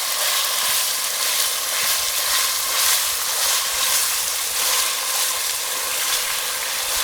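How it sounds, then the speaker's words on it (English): Salted pork cubes sizzle steadily in a hot pan, searing and browning, a loud, even frying crackle with no voices. "I'm just dunking the entire thing in and allowing this to saute and sizzle, browning, searing,"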